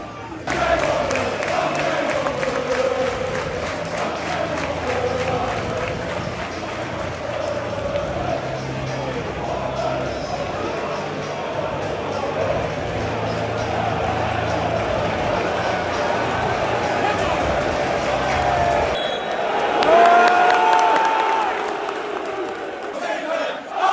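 Home crowd noise fills Kenilworth Road as Luton Town prepare to kick off against Watford in a derby, a steady dense roar of many voices with a brief surge of cheering near the end.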